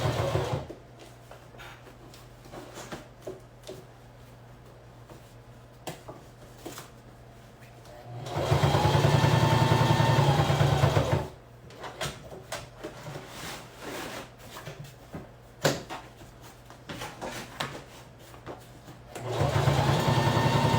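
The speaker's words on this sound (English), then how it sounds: "it's a really, really great sewing machine" A sewing machine hums in a steady mechanical run, loud and close, with a second burst starting near the end; quieter handling noises fill the gaps between.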